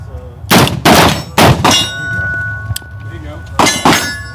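Rifle gunshots at an outdoor shooting range, five loud sharp cracks in quick pairs with a metallic ring after them, close by, with a faint steady tone between shots.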